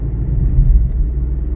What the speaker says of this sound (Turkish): Şu anda turboyu açtı araç hızlandı.